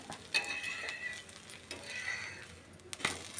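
Mappillai Samba rice dosa cooking on a hot pan, a soft steady sizzle with occasional scraping and metallic taps from a utensil, close and moderately quiet, no voices.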